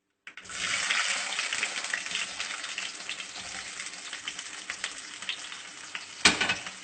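Small onions sizzle loudly and steadily in a close pan for a Kerala sardine curry, a dense continuous hiss with a sharper clatter burst near the end and no talking.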